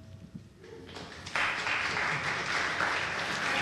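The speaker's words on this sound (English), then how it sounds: "I think that's the first time there's been an applause for a traffic engineer" A council meeting audience bursts into applause for a traffic engineer, starting with scattered claps and murmurs before a sudden, full round of clapping that holds steady through to the end.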